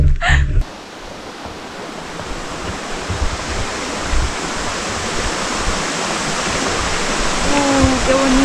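Steady, loud rush of falling water fills the whole clip, a broad continuous roar like a river cascade close by in a Patagonian park in Chile, with a brief voice near the start.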